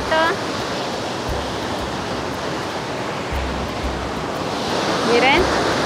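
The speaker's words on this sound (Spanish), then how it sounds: "estamos pescando cascadas hermosas que hay en acá sobre la carretera hacia los Yungas" Waterfall beside the mountain road to the Yungas near La Paz, Bolivia, a steady loud rush of falling water filling the whole clip, with a few faint bird chirps and low thumps.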